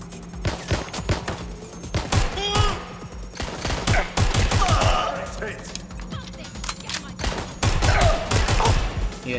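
Bursts of gunfire in the video game Watch Dogs Legion crack out in rapid clusters, some single shots and some quick volleys, mixed with someone talking over the gameplay.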